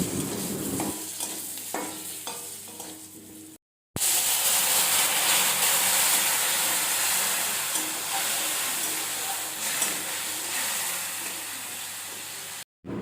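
Spice paste of turmeric and ground spices cooks in a pan with a little water, hissing and sizzling loudly and steadily after a brief cutoff, with stirring scrapes early on, close and without speech.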